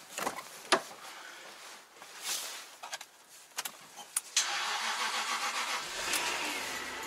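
A car engine cranks in several short bursts and then catches and settles into a steady running note, with some clatter before it fires; no one speaks.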